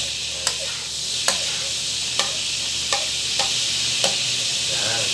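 Chicken sizzling in a pan as chopsuey is cooked, a steady loud hiss of frying with a handful of sharp utensil clinks and scrapes as the pieces are pushed aside.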